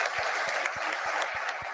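An audience applauds after Fed Chair Jerome Powell's annual Jackson Hole speech, a steady wash of many hands clapping, close and dense, with no talk over it.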